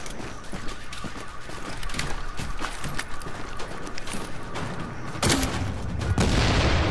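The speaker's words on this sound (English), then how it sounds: "Look what he's using. It's an M32 grenade launcher." Dense in-game gunfire from The Division, with an M32 grenade launcher among the weapons, forms a loud continuous fusillade of overlapping shots and booms that swells near the end.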